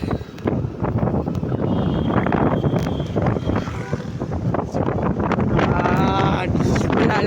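Strong cold wind of a storm sweeping through Ahmedabad, roaring steadily and loudly against the microphone for the whole stretch, with a faint voice or two mixed into the gusting noise.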